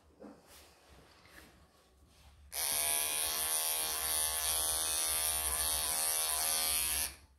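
Electric clippers trim mats from a Persian cat's belly, a loud steady buzz switching on after a quiet couple of seconds and running close and unbroken for about five seconds before cutting off.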